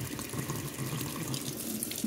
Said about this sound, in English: I'm putting water in the reverse flow direction. So I'm putting water in the end that goes towards the pump, and notice water's pouring out the bottom.